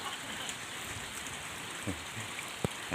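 Steady rain falls during the first rain of the year, a dense even hiss of drops on surfaces, with a couple of brief louder splashes or knocks near the end and no voices.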